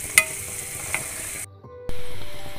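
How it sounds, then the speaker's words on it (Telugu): Ginger garlic paste sizzles and fries loudly in a hot pan for pav bhaji, with a couple of sharp utensil clinks. The sizzle cuts out briefly, then surges back even louder as it is stirred. "ఫ్రెష్ అల్లం వెల్లుల్లి పేస్ట్ వేసుకుందాం అల్లం వెల్లుల్లి పేస్ట్ మంచిగా ఫ్రై అవ్వాలండి"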